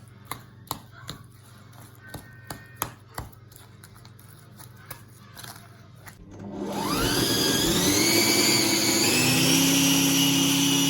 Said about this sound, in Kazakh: Осыны енді жақсылап араластырып аламыз.